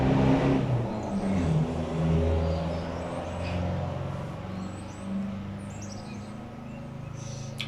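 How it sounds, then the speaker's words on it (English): A car drives by with a broad road rumble and engine whir that rises and eases off across several seconds, moderately close, with no talking. "I'm gonna kill that car that just drove by"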